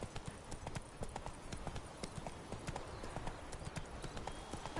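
Horse hooves trotting in The Witcher 3: Wild Hunt, a steady, close clip-clop rhythm that continues without a break for the whole stretch, with no talking over it.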